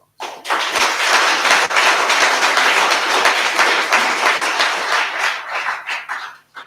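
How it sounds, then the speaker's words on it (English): A crowd at a graduation celebration claps in a steady, dense round of applause that runs loud and unbroken for several seconds before tapering off. "we can give you a round of applause"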